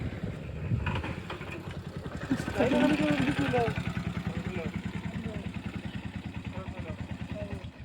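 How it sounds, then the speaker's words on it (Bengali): A motor vehicle, likely a motorbike, approaching and passing on a new village road near Guwahati, its engine rising to a close, loud rumble and then droning steadily, with a person talking over it. "এই যে গাড়ি আসতেছে"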